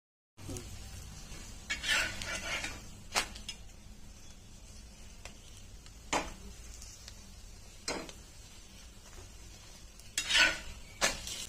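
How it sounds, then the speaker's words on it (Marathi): Upvas thalipeeth roasting in ghee on a pan gives a low, soft sizzle, punctuated by several sharp metallic clinks and scrapes from a spatula at irregular intervals, with no talking. "थोडं तूप घालून खरपूस भाजून घेऊ"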